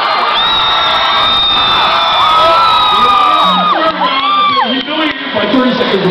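A live rock concert crowd at a solo set screams, whoops and cheers loudly and continuously, a dense wall of many voices close around.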